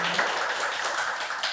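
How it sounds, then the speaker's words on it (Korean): An audience at a university seminar applauds as a guest professor is introduced, a dense, even wash of clapping that holds steady throughout. "우선 이제 박수로."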